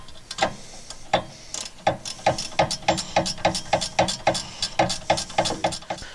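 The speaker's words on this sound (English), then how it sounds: "I tightened that up as much as I could with my gear wrench, my 17mm gear wrench" A 17mm ratcheting gear wrench tightens a rear shock bolt on a Honda Civic, giving a steady series of close, crisp ratchet clicks in quick rhythmic bursts, with no talking.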